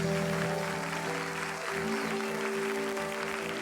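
Studio audience on a Turkish talk show applauding to welcome a guest onto the stage, steady broadband clapping over music with sustained tones, continuous and fairly loud throughout.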